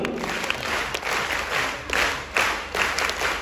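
An audience at an inauguration ceremony claps together in a brief, dense patter of applause, with no voices.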